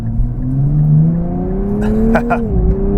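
A 2024 Nissan Z NISMO driving at night, its engine droning and rising steadily in pitch before a quick gear change, heard loud from inside the cabin.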